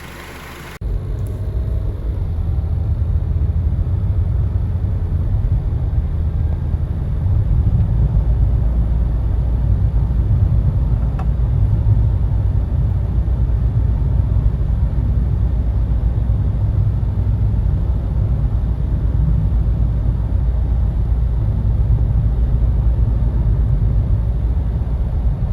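A car being driven after a head gasket repair done with BlueDevil sealant, its engine giving a steady low rumble that holds evenly throughout with road noise beneath, and no one speaking.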